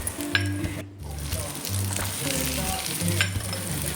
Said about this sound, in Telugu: రెండు కప్పులు కొబ్బరి ముక్కలు వేసాక లో ఫ్లేమ్లోనే అలాగే ఒక ఫైవ్ మినిట్స్ అటు ఇటు తీసుకుని జస్ట్ లైట్గా ఫ్రై చేయాలి